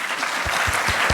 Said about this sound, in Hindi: एक बार अपने आप के लिए तालियां बजा लो प्लीज़।